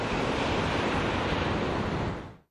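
Ocean surf on a Malibu beach roars as a dense, steady rush with wind buffeting the microphone, loud and close, before fading out abruptly at the end.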